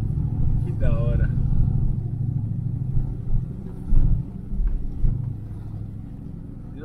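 A Ford Maverick Grabber accelerates through water, its engine a deep, close rumble that swells briefly before settling, with people talking over it.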